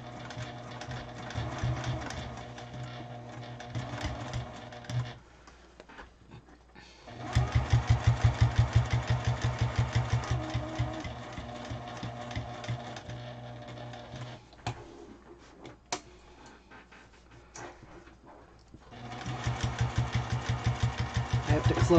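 A sewing machine stitches a thick seam on a fabric bowl organizer, its rapid mechanical chatter running in bursts with a couple of short pauses between stitching runs.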